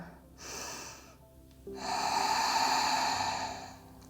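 Slow, deep breaths close to the mic during a yoga stretch: a short inhale, a pause, then a long, steady exhale in a quiet room.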